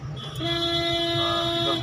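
A car horn gives one sustained, steady tonal blast lasting nearly two seconds, fairly close and clear, with faint low engine rumble beneath and no talking.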